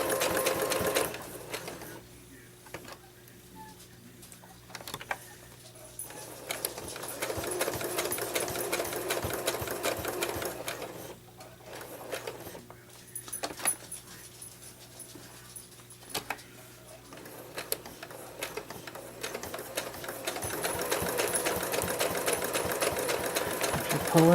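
A home sewing machine runs in several long stretches while stitching lines across a quilted potholder, its steady motor hum broken by short pauses, with a dog panting and whimpering nearby.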